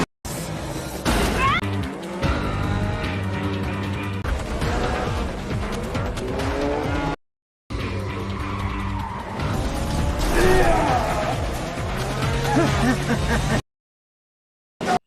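Race cars in the Death Race 2 film skidding through a race, roaring engines and squealing tires with impacts and crashes, loud and layered with dramatic scoring, broken by two brief silent gaps.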